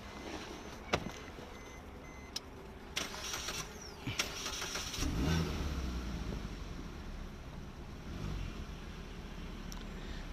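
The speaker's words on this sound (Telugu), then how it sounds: "సార్ ఇంజన్ స్టార్ట్ చేయండి." A Maruti Swift Dzire car's engine cranks and catches during an exhaust emission demonstration. Scattered clicks and rustles come first, then a low rumble swells midway and settles into a steady idle under broadband outdoor noise.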